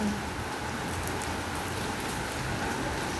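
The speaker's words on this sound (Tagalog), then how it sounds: "Grabe yung ulan." Steady rain pours down on a street during a rainy afternoon, a dense, continuous hiss of drops spattering on the pavement with no pauses, fairly loud and close throughout.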